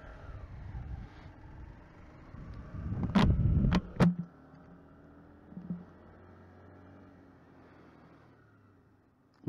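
Honda CBR 125R motorcycle engine revving up, a rough rumbling build with a couple of sharp throttle blips in the middle, then settling to a steadier, quieter drone.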